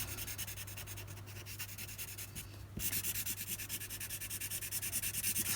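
A Sharpie pen scrubs back and forth over a scrap sheet of paper while colouring in a shape. The strokes are quiet and rhythmic, scratchy and close, and grow a little louder and denser in the second half.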